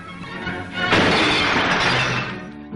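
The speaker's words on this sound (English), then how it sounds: "If you're old enough to remember the old-fashioned glass windscreens, this is what happened when you banged your nut." An old-fashioned glass windscreen shatters in one loud burst, with fragments crashing and tinkling for nearly two seconds before fading, no voices over it.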